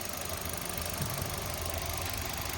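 A Hyundai Grand i10 Sportz 1.2-litre petrol car engine idles steadily with a low, even rumble and faint knocking, no voices.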